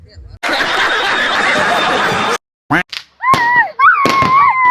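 A loud, dense burst of firecracker crackling at a wedding procession lasts about two seconds, then cuts off, followed by short voices and chuckling.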